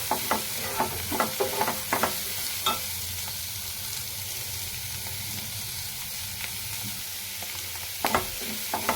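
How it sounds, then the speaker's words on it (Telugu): Sliced onions frying in a pan for an Andhra-style bitter gourd stir-fry, with a steady close sizzle and hiss broken by scattered scraping knocks of a spoon stirring them. "ఉల్లిపాయలు వేసుకొని బాగా మగ్గనిద్దాం."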